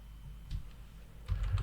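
A few keystrokes on a computer keyboard enter a command, with two soft clusters of clicks, close and quiet against a faint room hum.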